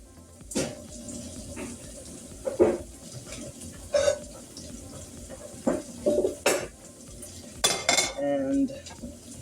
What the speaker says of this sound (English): I'm going to get a medium-sized plate.